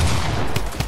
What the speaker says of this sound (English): This drum gun is so toxic